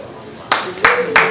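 Applause at a women's cancer walk event begins under a speaking voice: three distinct, crisp claps land about a third of a second apart, close and fairly loud, with a faint hum underneath.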